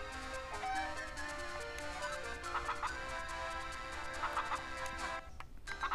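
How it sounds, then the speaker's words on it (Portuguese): Cucco chickens cluck and crow in The Legend of Zelda: The Minish Cap, their game-style squawks repeating steadily over layered background music with no talk. "Meus cucos fugiram!"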